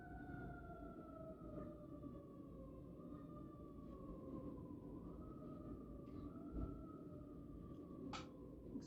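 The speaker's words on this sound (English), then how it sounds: "excuse the sirens." Fire truck sirens wail outside at a distance, rising and falling in long sweeping tones behind a quiet indoor room, with a brief horn blast near the end.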